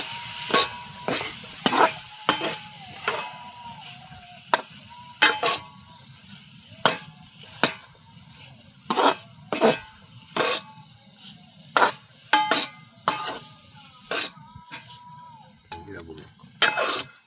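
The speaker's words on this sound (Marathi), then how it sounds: "हे पहा मित्रांनो, असे मसाल्यामध्ये मस्त परतून घ्यायचे." Potato curry sautéed in masala in a home kitchen, a spoon scraping and clinking against the pan in repeated sharp strokes over a low, steady sizzle, with someone talking at times between the stirs.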